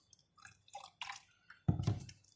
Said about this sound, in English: You just have to add some milk here.